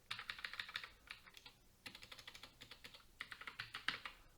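Quick typing on a computer keyboard, close and quiet, in three short bursts of rapid key clicks separated by brief pauses.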